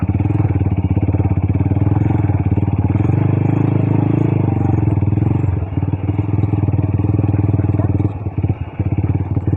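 A sports bike converted into an adventure bike idles close by with a loud, steady rumble that falters near the end as though short of fuel, while people talk over it.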